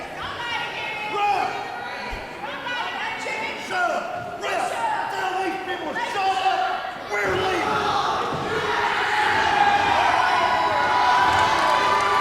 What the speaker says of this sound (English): Chris wants the crowd to shut up, but they're clearly on the side of D.N.A., Tony Morales, and Dusty Williams.